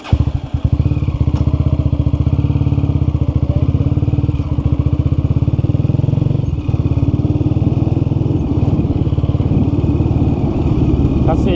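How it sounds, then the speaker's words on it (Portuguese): A Honda CG motorcycle engine runs loud and close throughout, a steady rapid low chugging with no gaps and no voices over it. "É porque a moto faz barulho"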